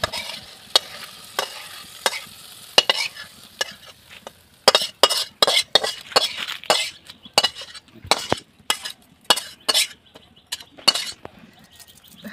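Village-style fish curry made with small pond-caught fish is spooned out of a cooking pot: repeated scrapes, clinks and wet slops of the ladle against metal in irregular bursts, close and clear.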